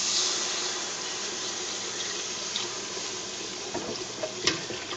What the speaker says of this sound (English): So now we're going to add the milk